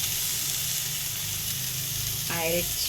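A ground paste of cumin, green chili, garlic, coconut and turmeric sizzles steadily in hot oil, a dense continuous frying hiss that swells with a brief louder crackle near the end.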